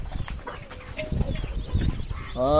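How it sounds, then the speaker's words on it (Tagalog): Chickens cluck close by alongside a flock of peeping chicks in a farmyard, with scattered short calls over shuffling background noise. "Mga sisiw yung kasalo mo dyan ah. Daming sisiw oh."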